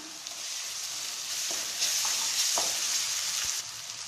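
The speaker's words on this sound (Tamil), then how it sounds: "இப்போ இஞ்சி பூண்டு பேஸ்ட்டு போட்டு நல்லா வதக்கிக்கலாம்" Steady frying sizzle with a bright hiss throughout as ginger-garlic paste sautés in butter for egg keema gravy, plus a few soft stirring scrapes and taps; no talking.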